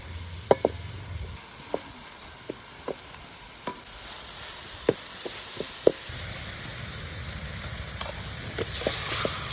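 Cinnamon and cloves sizzling in a hot pan for mint chicken pulao, a steady hiss broken by sharp crackles and pops, with a stirring utensil scraping now and then.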